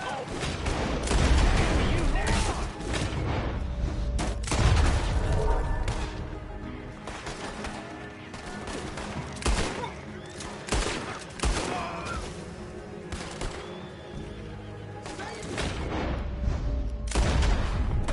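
Sustained gunfire, a dense stream of sharp shots and bursts, some near and loud, going on for many seconds amid crashes and shouting voices.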